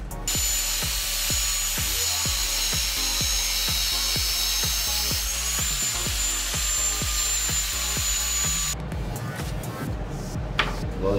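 Homemade plastic and acrylic cutter working through plastic, a loud steady grinding hum with regular rhythmic strokes throughout, shifting to a harsher, noisier scrape near the end.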